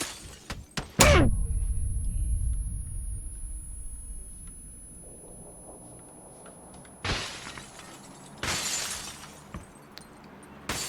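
Grenade blast in PUBG, a sharp loud burst near the start that rumbles and decays over a few seconds, followed by quieter stretches and two later crackling bursts.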